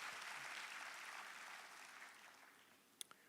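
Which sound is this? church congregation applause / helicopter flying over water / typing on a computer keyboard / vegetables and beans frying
church congregation applause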